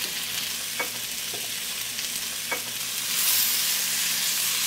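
Onion, capsicum and tomato pieces fry in oil in a pan with a steady close sizzle, broken by a few light stirring knocks; the hiss swells louder near the end.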